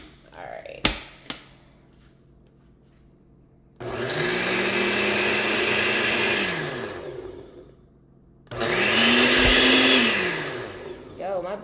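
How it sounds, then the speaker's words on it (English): Blender puréeing a raw vegan bolognese sauce in two loud, sustained bursts of several seconds each, separated by a quiet pause, with a brief knock or clatter before the first run. "Yo, my blender don't like me."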